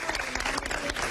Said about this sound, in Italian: l'applauso, come sentite?